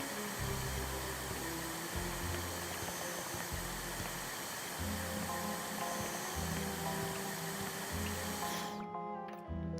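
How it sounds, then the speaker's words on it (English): Vacuum cleaner running in the video game House Flipper 2, a steady loud whirring drone with a low pulsing hum underneath, cutting off abruptly near the end. "And then let's vacuum the room."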